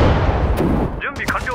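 Artillery and gunfire in the Pacific War strategy game Sudden Strike 4, set at the Battle of Okinawa, rumble as a dense, loud barrage with sharp bursts, while a short game voice line is spoken over it.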